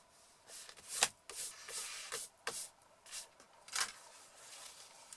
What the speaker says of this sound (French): on va pouvoir donner un petit coup de gomme pour enlever notre trait de repérage